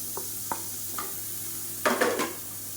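Finely chopped medium tomato sautéing with masala in a pan, with a few light taps and a short burst of stirring and sizzling near the end, close and fairly quiet.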